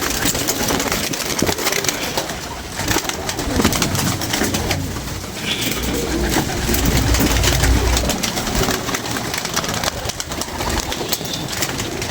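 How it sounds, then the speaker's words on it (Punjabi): A pigeon coos in soft, repeated throaty phrases close by, with a low engine-like rumble in the background and no speech. "ਇਹ ਕਬੂਤਰ ਟੈਡੀ ਨਹੀਂ ਹੈਗਾ ਪਰ ਕਬੂਤਰ ਬੜਾ ਚੰਗਾ ਹੈ ਬਾਬਾ"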